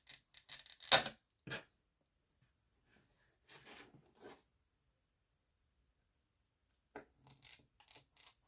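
A glass cutter scores a piece of stained glass for a rose panel, giving short scratchy rubbing strokes in three faint, close bursts separated by silence.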